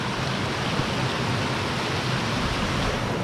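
Several waterfalls tumble one after another into blue-green pools at an abandoned mine, giving a steady, dense, loud rushing roar with no let-up and no voices.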